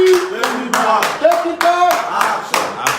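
Loud, rhythmic clapping at a live rally fundraiser, with sharp bursts in a steady quick beat and a voice sounding faintly underneath.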